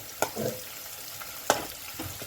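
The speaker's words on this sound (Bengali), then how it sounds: "এগুলো সব একসঙ্গে ভেজে নেব" Onion frying in a pan with cardamom seeds and cinnamon, a close, steady sizzle broken by two sharp scraping stirs of a spatula, with no voices.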